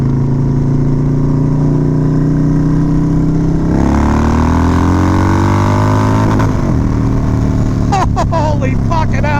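Harley-Davidson Dyna motorcycle with a Screaming Eagle 110ci stage 5 kit revving hard on a first ride, the loud engine droning and then climbing sharply in pitch toward redline, with a rider speaking over it.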